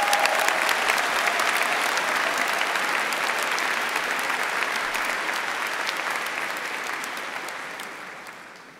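Sustained applause from an audience at a university engineering faculty graduation ceremony, a dense wash of many hands clapping that slowly fades toward the end.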